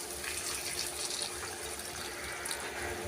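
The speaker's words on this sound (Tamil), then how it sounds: "கொஞ்சமா தண்ணி சேர்த்துக்கலாம்" Water poured from a tap or jug into a pan of tomato gravy for gram flour curry, a steady close rushing gush that carries on throughout with no talking.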